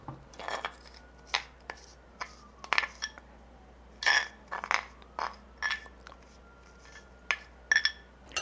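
Clinks and light scrapes of a utensil against a bowl as broccoli is transferred for a broccoli salad with sesame dressing, sharp irregular taps spread across the clip, close and fairly quiet.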